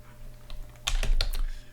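A handful of quick keystrokes on a computer keyboard while HTML code is typed, close and fairly soft, ending in a short flurry of clicks.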